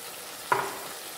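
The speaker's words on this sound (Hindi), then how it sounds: "फिर मैं उसको भून लूँगा, चम्मच चलाऊंगा।" Chicken liver frying in a pan, with one brief scrape of a spoon stirring it gently over a soft background sizzle.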